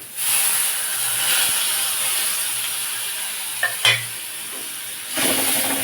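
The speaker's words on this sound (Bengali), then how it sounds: "এবার যেটা দেব টমেটো পেস্ট" Tomato paste hits an already hot kadai after pointed gourd was fried in it, giving a steady broadband sizzle with a brief stirring scrape near the middle and a fresh burst of sizzling toward the end; no talk.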